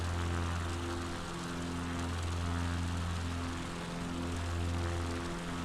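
A propeller aircraft's engine drones steadily in Flight Simulator 2020 as the plane climbs near 4,000 feet over Patagonian mountain ridges, a constant low hum with a soft buzz layered over it and no talking.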